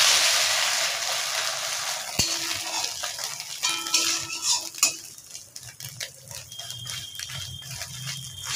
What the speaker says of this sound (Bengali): ডিমটা উল্টে দেবো।